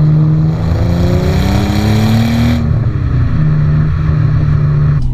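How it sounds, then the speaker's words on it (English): A modified Nissan R34 GTT with a decat pipe feeding a Japspeed exhaust and an Apexi air filter, a loud, deep engine drone rising in pitch as the car accelerates, then easing off and settling. "the DCAT going into the Japspeed exhaust system makes a fantastic noise"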